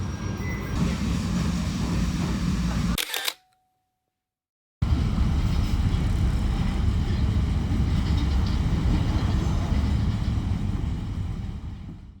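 A low, rumbling ride on a moving train, steady rolling noise and rattling throughout, interrupted once by a brief silence before the rumble resumes.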